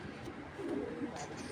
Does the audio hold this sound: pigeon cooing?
yes